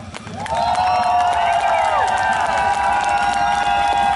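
At the Moto Starkon 2016 motorcycle show, a crowd cheers and claps loudly for a rider as a nearby motorcycle engine revs and holds a strong, sustained drone that rises and falls over the noise.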